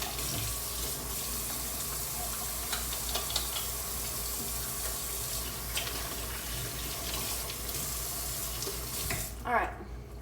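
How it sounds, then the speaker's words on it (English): Running water from a tap as someone washes their hands at a kitchen sink, a steady close wash of flowing water throughout with small splashes. "Now I'm gonna wash my hands because that was yucky."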